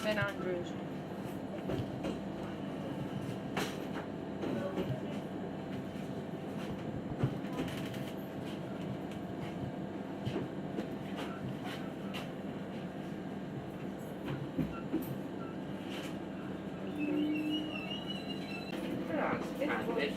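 A Greek Railways train on the Patra–Kastelokampos line rumbles steadily along the tracks with a continuous low drone and occasional clanks and squeals, heard from onboard at moderate volume.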